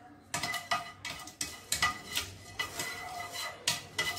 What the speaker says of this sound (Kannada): ಈಗ ಈ ಮೂರನ್ನು ನಾನು ರೋಸ್ಟ್ ಮಾಡ್ಕೋತೀನಿ.